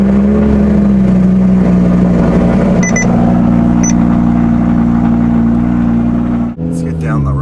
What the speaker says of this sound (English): firing up a cold start with a Lamborghini